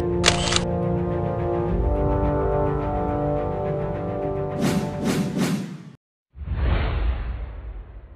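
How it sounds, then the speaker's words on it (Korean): Camera shutter clicks firing in a quick burst of three sharp snaps, heard over a dense, continuous layer of music or ambient sound, followed by a brief silence and a swelling whoosh. "스코필드 박사의 셔터는 멈추지 않았다"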